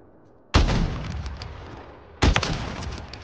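Two loud sniper rifle shots in a first-person shooter game, each a sharp heavy crack with a rumbling tail, about two seconds apart.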